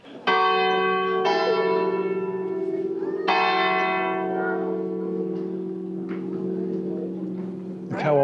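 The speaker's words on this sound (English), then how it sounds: "The bell still works though." An old church bell in a town square in Honfleur, France rings out with several long, resonant strikes that hum and fade, heard fairly near with faint street ambience and a little distant voice.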